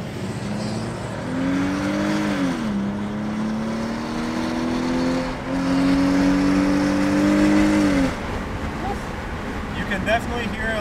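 A BMW 330Ci E46 with an M54B30 engine and a cold air intake revs repeatedly, its engine tone climbing and settling in several smooth pulls before cutting back to idle.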